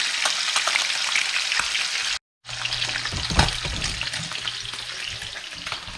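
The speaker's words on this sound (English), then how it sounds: "You want to hear it sizzling. You want it to just be popping in there" Sheepshead fish fillets sear in hot oil with a steady, dense sizzle and crackling pops, loud and close, broken by a brief silent gap before the frying resumes.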